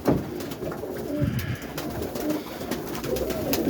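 Roller pigeons in a loft coo softly and repeatedly over steady ambient hiss, the low rolling calls close and continuous with no talking.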